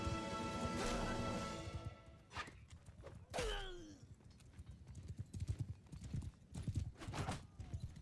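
Horse hooves clatter in a medieval battle in the video game Bannerlord, a rapid run of thuds and clip-clops with a whinny and clashing impacts, close and busy over a rumbling background.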